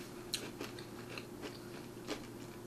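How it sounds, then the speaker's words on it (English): Lay's tomato-based potato chips crunch between teeth, several crisp, quiet bites spaced irregularly over a low steady hum. "Listen to that crunch."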